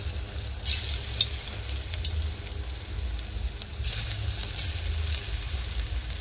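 Fish pakoras in gram-flour batter dropped into hot oil in a wok, a steady bubbling sizzle with crackling bursts as new pieces go in, continuous and close.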